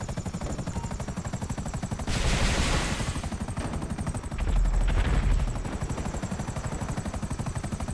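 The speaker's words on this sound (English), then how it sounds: "Deluxoism just eradicating a Mark II with the Akula Barrage" An Akula helicopter in GTA Online fires Barrage missiles to destroy a Mark II, with rapid chopping rotor beats throughout and two loud bursts of explosive fire breaking over them.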